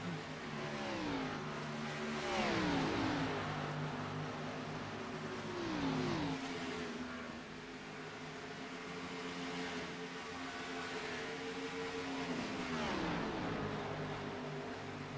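Race car engines rev and whine in a close iRacing stock car battle, their pitch sweeping up and down steadily as several cars run side by side, a continuous droning roar with no talking.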